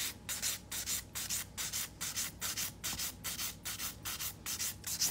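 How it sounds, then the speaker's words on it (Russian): A nail file rasps back and forth over sculpted stained-glass gel nails in a steady, rapid rhythm of short strokes, close and alone with no voices. "уже потихонечку приступать к шлифовке"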